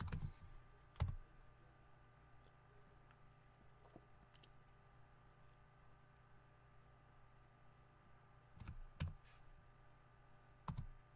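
Keystrokes on a computer keyboard while installing a text-based browser on a Unix-style system, heard as a few short, faint click clusters near the start and end over a quiet steady hum.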